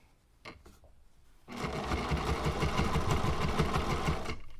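A sewing machine stitches a bag, starting with a couple of soft clicks, then running steadily and loudly for about three seconds in a fast, even mechanical whir with a rhythmic needle patter.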